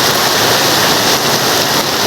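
Heavy rain pouring steadily, a loud, dense hiss with no gaps, close by and filling the whole moment.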